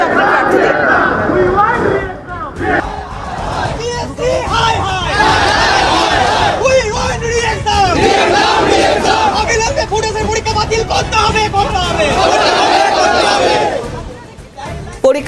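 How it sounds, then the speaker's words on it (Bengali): Job seekers protest outside the PSC building over alleged question leaks in a Food SI exam. A loud, dense crowd chants and shouts without a break, with rhythmic cries and babble filling the whole stretch. "বিক্ষোভ চাকরি প্রার্থীদের।"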